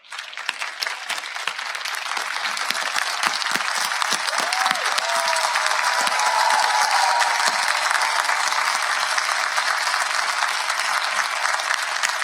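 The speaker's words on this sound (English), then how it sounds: "please rise and give them a huge round of applause for the parents" Loud, sustained applause from a big audience at a nursing school graduation ceremony, many hands clapping in a thick, even roar that barely wavers over twelve seconds.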